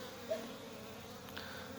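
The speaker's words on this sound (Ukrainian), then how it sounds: "Там бджола просто повилазила вона і п'є воду з поролончика" Faint honeybee buzzing, bees flying nearby and drinking water from a foam sponge, over a low steady background hum with a brief louder swell partway through, on 1 January.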